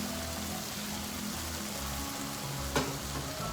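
Fried bitter gourd pieces added to keema in a hot pan, a dense steady sizzle with low kitchen hum underneath and a single sharp clatter near the end, no speech.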